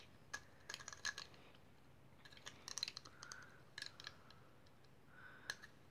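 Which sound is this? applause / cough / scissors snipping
scissors snipping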